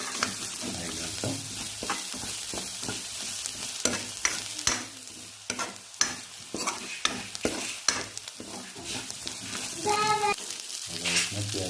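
Mushrooms fry in a pan with a steady, quiet sizzle. Repeated scraping and clattering strokes of a spatula stir them at close range throughout, and no one speaks.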